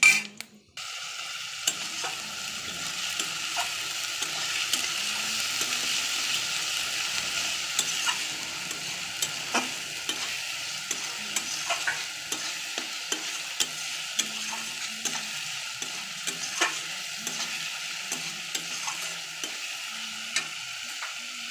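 Whole cloves, cardamom, cinnamon, bay leaves and cumin frying in hot oil, a steady close sizzle broken by occasional stirring clicks and pops, with no talking.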